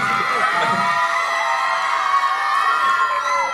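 A lively crowd of children cheers, shouts and whoops continuously at a Chhota Bheem trailer launch event, loud and dense throughout.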